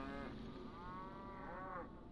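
Cattle in the Neverwinter Nights video game, two drawn-out low moos in quick succession over a dense rumbling background, faint and without speech.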